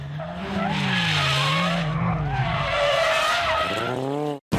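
A classic Renault driven hard in 360-degree spins at a heritage show gives off a loud, sustained tire squeal that wavers in pitch over a straining engine, close and continuous, then cuts out abruptly at the end.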